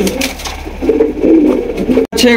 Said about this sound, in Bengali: খুবই চমৎকার সুন্দর একজোড়া আফসান গেজের রেসার কবুতর